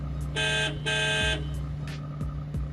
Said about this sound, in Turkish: korna tuşunu arıyordum. O da buymuş.